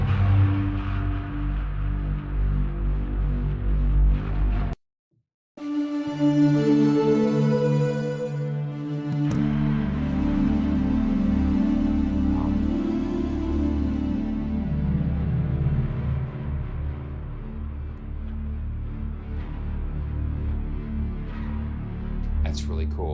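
Fabrik Sinoid synthesizer playing heavily distorted bass tones with sub-oscillation, buzzy sustained notes shifting in pitch, a brief dropout to silence, then a bright held chord over a growling low layer, loud and close.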